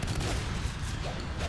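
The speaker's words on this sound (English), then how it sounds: "4 shotguns in sub-access, taking down Valo" Several shotguns fire at once during close combat in Natural Selection 2, producing a dense, loud burst of overlapping blasts and booms that lasts the whole short moment.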